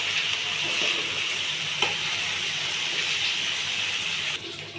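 Rice frying in a pan gives a steady sizzle throughout, with a few soft stirring clicks and scrapes. It runs alone, with no talking, and eases slightly toward the end.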